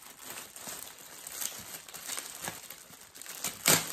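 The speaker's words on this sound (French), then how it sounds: "Désolée pour le bruit de plastique." Plastic packaging crinkles and rustles close up during the unboxing of a Loungefly Disney backpack, continuous soft crackling that ends in a sharper crunch.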